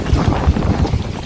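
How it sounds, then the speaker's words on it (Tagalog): Steady wind buffets the microphone with a low, rumbling roar that stays constant throughout, with no voices, in rural Ilocos Sur, Philippines. "Mahangin."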